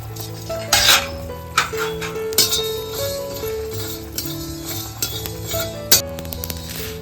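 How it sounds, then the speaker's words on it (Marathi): Sesame seeds dry-roasting in a pan while being stirred, with scattered scraping and clinks of a spoon on metal and a faint sizzle, close by with tonal background music underneath. "इकडे तीळ घातलेले आहेत जास्त नाही भाजायचे थोडे थोडेच भाजायचे"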